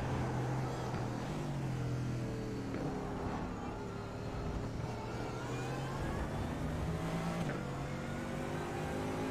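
Onboard engine of a GT3 race car at Le Mans in iRacing, roaring steadily and loudly with rising and falling revs as the gears change, alone and without talk.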